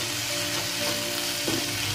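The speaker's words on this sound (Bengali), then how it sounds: "এখন একটু ভাজা ভাজা হয়ে গেছে সব মশলাগুলো" Spices frying in butter over a medium flame for paneer butter masala, giving a steady close sizzle with a brief stirring scrape near the end.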